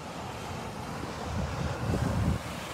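Ocean surf rolls in at Long Beach, New York, a steady broadband wash of breaking waves mixed with wind buffeting the microphone, swelling slightly louder toward the end with no one speaking.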